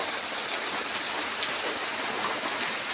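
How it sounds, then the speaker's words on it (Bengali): Steady rain falls outdoors during home cooking, a continuous dense hiss of drops on surfaces without pauses, moderately loud and close, with no talking. "পাড়াপাড়ি করতে করতে বৃষ্টি আসে গেছে।"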